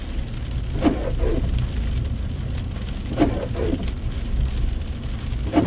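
Heavy rain pours steadily on surfaces in a continuous dense hiss, and heavier drops patter through it at irregular moments.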